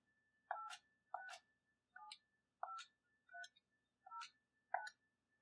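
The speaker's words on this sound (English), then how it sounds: "but we can press DTMF tones" Key presses on a telephone connected to a subscriber line module send seven short, separate DTMF beeps in an uneven sequence, clean and fairly quiet against near silence.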